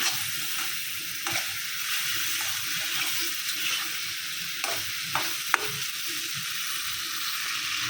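Food sautéing in a pan in a village kitchen, a steady close sizzle with occasional scraping and stirring clicks as it is cooked down, no voices over it.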